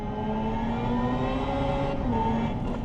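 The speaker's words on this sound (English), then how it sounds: "Let's do Evolution. It's more sounds like a race car, I guess." A 2025 Hyundai IONIQ 5 N plays its simulated race car engine sound in Evolution mode, a steady synthetic droning whine with rising pitch sweeps as it accelerates, heard from inside the cabin.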